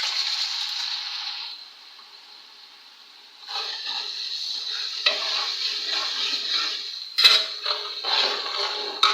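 Ginger garlic paste fries with browning onions in a pan for chicken haleem, giving a bright, continuous sizzle that dips briefly, then swells again amid spoon scrapes and stirring clatter, close and fairly loud.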